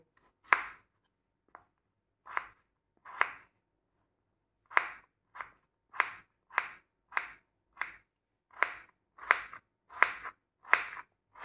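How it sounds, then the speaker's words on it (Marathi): A peeled raw potato is chopped into small pieces with a knife on a board: sharp, close knocks, sparse at first, then a quicker, steady run of about a dozen even strikes. "इथे कच्चा बटाटा घेतलाय, साल काढलेली आहे, याचे आपण बारीक तुकडे करून घेऊया"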